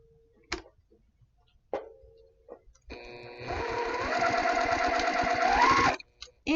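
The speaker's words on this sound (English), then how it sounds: "And I'm sewing standing up." A home sewing machine runs in a steady whirring burst of stitching through quilt block fabric for about three seconds, preceded by a few sharp clicks and short hums, close and clear.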